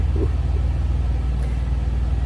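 Steady low rumble of a truck engine heard from inside the cab while driving, a constant droning hum with slight pulsing throughout and no talk.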